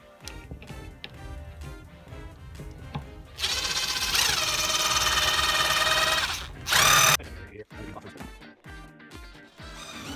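A power drill fitted with a 5/16 bit whines steadily for about three seconds, then gives a short, harder burst, with busy background noise before and after.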